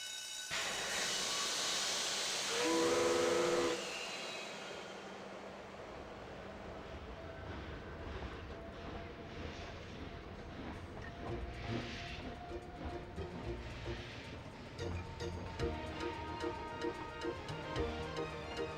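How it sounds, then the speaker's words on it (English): A steam train in the video game Grandia opens with a loud whistle and hissing steam, then settles into a long, steady rumble of rolling carriages with rhythmic clatter. "It's a long train ride."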